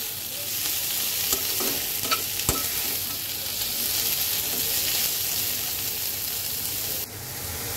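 Water lily stems fry with onion in a pan, a steady close sizzle running throughout with occasional scraping stirs and light clicks of the utensil against the pan.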